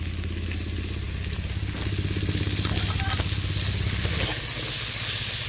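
Ginger, garlic, coriander and cumin paste sizzles in a hot pan for a fish curry, a steady close crackle and hiss running under a person talking.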